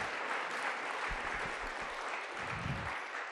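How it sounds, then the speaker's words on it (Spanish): A congregation at a Spanish-language church service claps together in steady, dense applause that fills the space evenly from start to finish. "¿Por qué no le damos un fuerte aplauso a Dios, familia?"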